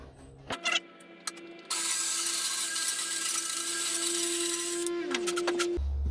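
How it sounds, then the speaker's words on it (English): Loud, steady broadband rasp of a cheap hand saw wriggling through a groove cut in a wooden kitchen table, running continuously for several seconds after a few short knocks, with a sustained tonal hum beneath. "That wee slither in between now, I just wriggle the saw."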